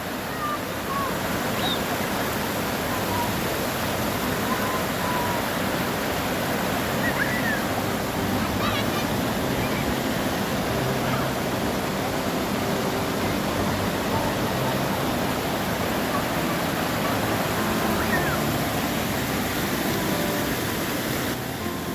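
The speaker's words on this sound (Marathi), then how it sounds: "पावसाचा पाण्याचा आवाज खलखलाट भरपूर आहे" Heavy monsoon rain near Khopoli in the Konkan region roars with rushing rainwater, a dense, loud, unbroken wash of noise that holds steady throughout, with faint chirps now and then underneath.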